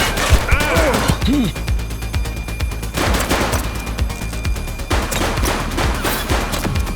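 Rapid bursts of gunfire fill a police shootout in the video game The Precinct, loud and close, with sharp repeated shots and a few shouted voices over the constant crackle of weapons.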